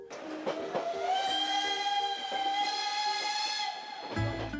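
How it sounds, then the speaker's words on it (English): A 19th-century steam train whistle in the Ardèche River Valley, one long sustained harmonic blast of about four seconds, loud and fairly close, cut off by a short low rumble at the end. "a 90-minute journey in the open cars of a 19th century steam train chugging slowly up the Ardèche River Valley"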